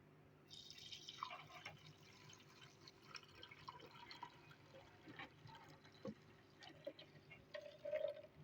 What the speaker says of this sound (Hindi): हम दूध डाल देंगे।